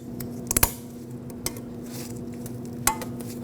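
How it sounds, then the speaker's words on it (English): An anti-rattle clip snaps onto a front brake bracket of a 2016-2022 Honda HR-V, giving a few sharp, close metallic clicks and clinks over a quiet background, with a quick double click early and single ticks later. "Then take your clip and put it right over. Make sure it gets locked in."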